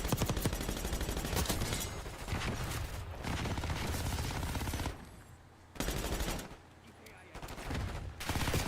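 Rapid bursts of video game gunfire fill most of the stretch, cutting out briefly in a couple of gaps before resuming, loud and close.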